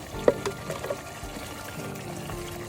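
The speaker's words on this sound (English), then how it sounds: "the green pepper and the red pepper, I blended that, and I'm going to add it to our stew" Blended green and red peppers poured into a pot of chicken stew, a soft, thick pour with a few gentle splats, quiet and close.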